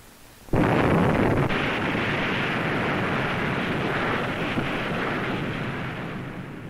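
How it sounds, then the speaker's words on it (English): The first atmospheric nuclear test explosion begins with a sudden onset after a short quiet moment, then becomes a loud, sustained broadband roar that rumbles on and slowly fades over several seconds, with no voices. "With the explosion of the first atmospheric nuclear test"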